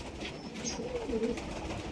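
Pakistani high-flying pigeons coo softly through a steady low background hum, a few low murmuring calls running together in the middle of a short stretch with no talk.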